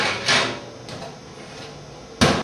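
An oven door swings shut after a baking dish of early spring lamb goes in: a couple of soft knocks and handling sounds, then one sharp, solid close right at the end.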